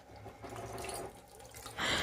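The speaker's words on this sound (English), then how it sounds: "And now we are going to add water and let it cook." Water is poured into a pot of mutton keema kofta curry, a soft splashing that builds into a brief louder gush at the end.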